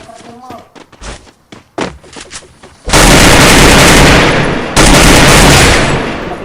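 Video game gunfire bursts out loud and sustained in two long volleys after a stretch of clicks, knocks and scattered voices at the start.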